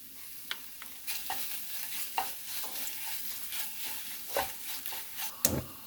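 Gochujang being stirred into Spam in a pot, a soft scraping stir with light sizzle and occasional clinks of the utensil, several louder strokes spaced irregularly, close and with no talk.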